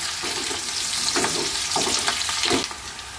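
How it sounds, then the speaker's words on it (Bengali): Chicken and vegetables stir-fry together in a hot pan: a continuous loud sizzle broken by several sharp scraping bursts as the food is tossed and stirred, close up. "মাংসের সঙ্গেও সবজিটা মিশিয়ে নিচ্ছি"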